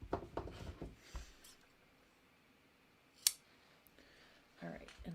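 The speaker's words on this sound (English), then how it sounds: "scissors." Scissors snip through clear vinyl for a zippered project bag, a few quick close crisp cuts at the start followed by a single sharp snip later, with faint handling noises in a quiet room.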